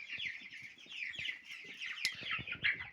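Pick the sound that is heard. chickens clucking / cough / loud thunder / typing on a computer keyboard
chickens clucking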